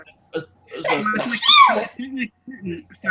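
A single sharp sneeze bursts out mid-conversation, with people talking just before and after it.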